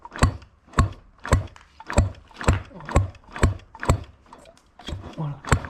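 A moped engine with no ignition being turned over by hand, a regular series of about eight to nine sharp mechanical cranking strokes, each a loud rasping burst of compression and gears, close by with no firing.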